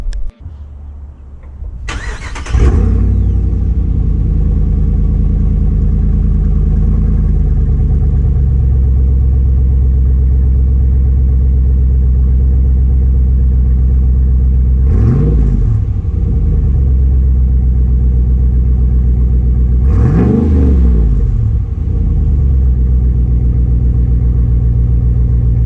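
A Ram 1500 Rebel pickup with a Carven axle dump exhaust and resonator cranks over and fires up, then settles into a deep, loud rumbling idle, with two throaty revs blipped later on.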